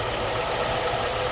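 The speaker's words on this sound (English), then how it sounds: "now she's running like crap, misfiring" A car engine runs rough and misfires with over-advanced ignition timing during driveway tuning, giving a loud, steady, close-up broadband roar with no voices.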